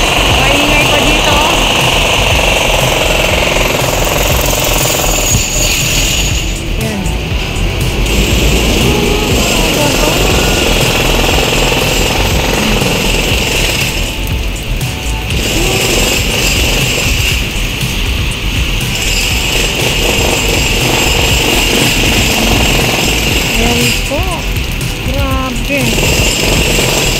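Heavy rain pouring steadily in a loud, dense roar that never lets up, with a person talking now and then over it.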